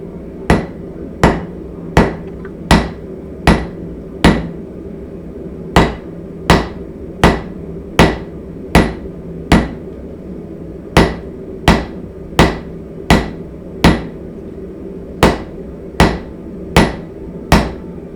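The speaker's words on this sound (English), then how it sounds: "let that little beast heat up and do some hammering to see what happens to that weld" Steady, evenly spaced hammer blows on a hot Damascus steel weld ring out one after another, about twenty sharp metallic strikes with short pauses between, loud and close.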